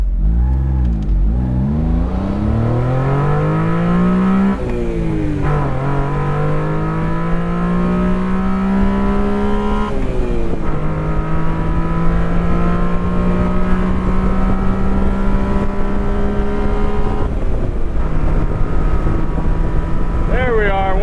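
A 1991 Honda Beat accelerating from standstill to 100 km/h, its small engine rising in pitch through several gears with brief dips at each shift, loud and close with steady wind noise throughout.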